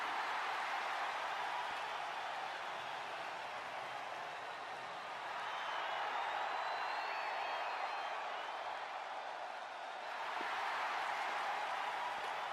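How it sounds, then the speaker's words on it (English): A WWE 2K22 arena crowd cheers Lucha House Party with Lucha chants during a Raw match, a steady, dense roar of voices that continues throughout at an even loudness. "the crowd here behind the Lucha House Party chatting along with those Lucha chants"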